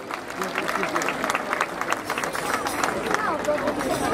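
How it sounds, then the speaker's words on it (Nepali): A crowd at an Easter celebration in Bhaktapur Thimi, Nepal claps to welcome a pastor to the stage, a dense patter of hand claps rising and falling steadily throughout, with some murmured chatter mixed in. "हामी जोरदार तालीका साथ उहाँलाई स्वागत गर्ने।"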